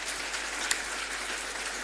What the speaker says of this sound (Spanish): Dale un fuerte aplauso si tú quieres.